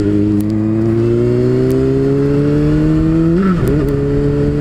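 A Honda CBR600RR sport motorcycle engine hums steadily while riding, pitch slowly climbing as it accelerates, then dipping briefly with a gear change, loud and close with no talking.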